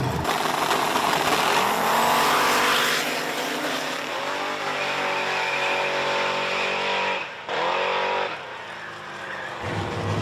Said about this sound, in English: we got Keith Duckham over here in the left lane going up against the S10 Blazer